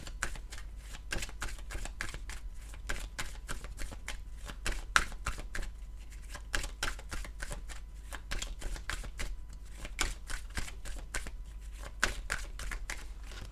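A deck of tarot cards is shuffled steadily before a cross spread, a quick run of crisp riffling clicks and snaps close to the microphone, with no talk over it.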